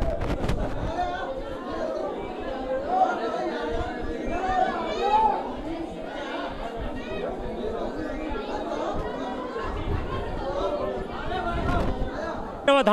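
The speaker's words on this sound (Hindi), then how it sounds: "भारी भीड़ उमड़ रही है गोगाजी महाराज के जन्मस्थल पर ददरेवा धाम में।" A huge crowd of devotees at Gogaji's birthplace, Dadrewa Dham, fills the air with dense, steady chatter and overlapping voices, with occasional distant pops within the babble.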